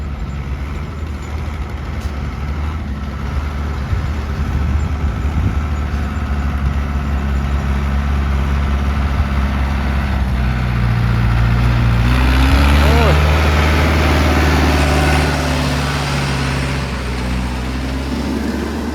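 A heavy tractor engine rumbles steadily throughout, growing louder toward the end as if moving nearer, with someone talking over it.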